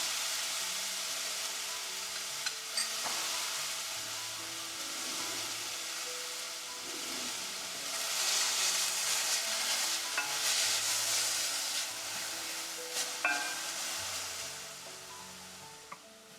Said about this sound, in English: We will allow them to cook till the onions have become translucent and the ginger garlic is cooked.